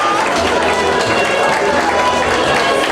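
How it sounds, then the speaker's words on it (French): Crowd applause fills a hall at an awards gala in Montréal as students file in, a dense, steady wash of clapping and cheering with a low rumble of music underneath. "On applaudit encore très très fort."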